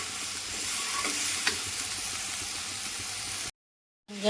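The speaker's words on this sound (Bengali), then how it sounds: "ধনে গুঁড়ো, জিরে গুঁড়ো, লঙ্কার গুঁড়ো সব একসঙ্গে মশলার মধ্যে দিয়ে আমি এবার ভালো করে কষাতে থাকবো" Ground coriander, cumin and chili powder with salt being sautéed and stirred into the masala in a pan for dhokar dalna: a constant crackling sizzle with occasional utensil scrapes, cutting to a brief silence before the sizzle resumes.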